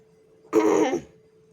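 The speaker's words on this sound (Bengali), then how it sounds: "কাশি হয়েছে আমার" A single short cough or throat clearing from a person, close and fairly loud, lasting about half a second, with a faint steady hum before and after.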